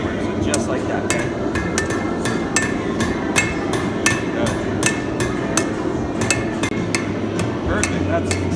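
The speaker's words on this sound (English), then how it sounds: "you ready to start hammering again" A blacksmith hammers a horseshoe knife at a forge, with loud, sharp metal strikes repeating in an uneven rhythm throughout, close by over a steady background hum.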